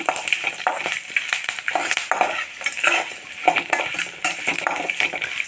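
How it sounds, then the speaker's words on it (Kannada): Dried red chillies and cashews fry in a pan as tempering for temple-style curd rice, making a loud crackling sizzle with rapid, uneven clinks and scrapes of a spoon stirring against the metal. "ಒಣಮೆಣಸಿನ್ಕಾಯಿ, ಗೋಡಂಬಿ ಹಾಕ್ಕೊಂಡು ಚೆನ್ನಾಗಿ ಫ್ರೈ ಮಾಡ್ಕೊಳ್ಳೋಣ"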